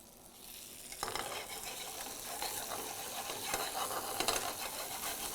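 Dal tadka tempering crackles and sizzles steadily in hot oil, a dense, continuous frying hiss with small pops throughout and no talk.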